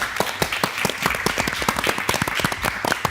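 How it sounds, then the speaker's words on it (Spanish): Studio audience applause opens a Chilean television panel show, with a brisk, close burst of individual claps in quick uneven rhythm, loud and continuous for a few seconds. "Fuerte el aplauso."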